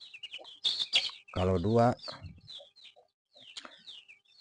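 Free-range native chickens (ayam kampung) cluck and chirp close by in a small backyard coop, with soft calls and a few louder squawks, while someone speaks briefly.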